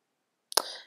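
Scissors snip black ribbon ends at an angle, one crisp close cut after a moment of silence, trailing off quickly.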